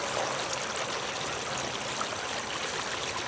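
Water spilling steadily over the tiers of a four-tier California-style stacked birdbath, a continuous close trickle and splash heard alone.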